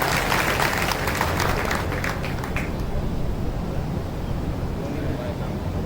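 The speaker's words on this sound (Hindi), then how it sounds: "आपने तालियां तो बजाई" An audience at an indoor address to a Brahmin community gathering in Gwalior claps in a dense burst of applause for a few seconds, which then fades into a low murmuring hall noise.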